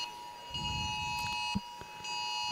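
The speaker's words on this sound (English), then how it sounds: "There's everyone's phones going berserk." Several mobile phones blare an emergency alert at once, steady piercing electronic tones holding continuously with a few faint knocks and movement underneath.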